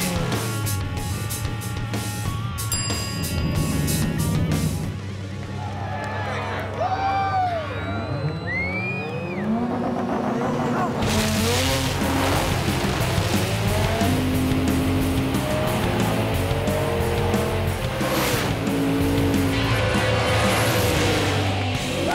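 Race cars accelerate in a drag race at a televised event, loud engines revving and roaring off the line with tire squeal, crowd noise and a voice in the background, the roar surging again partway through.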